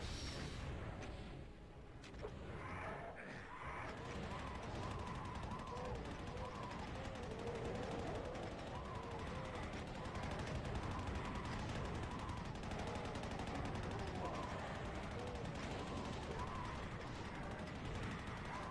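Constant weapon fire and explosions fill a Doom map, Judgment megawad MAP25 Flooded Archive, as a dense, unbroken stream of gunshots and booms that stays at a fairly low, even level throughout.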